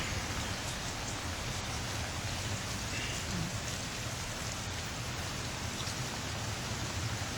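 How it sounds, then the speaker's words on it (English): Steady rain falls outside a cabin, a dense even hiss of drops on surfaces, soft and continuous with no voices. "So it's raining today."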